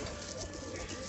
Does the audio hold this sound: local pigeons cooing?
yes